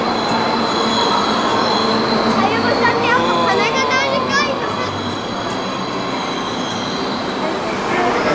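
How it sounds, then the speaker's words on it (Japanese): An E2 series Shinkansen train pulls into track 22 at a Japanese station platform, its wheels squealing and rolling steadily throughout, loud and close, with excited voices talking over it. "22番線電車が到着しています。"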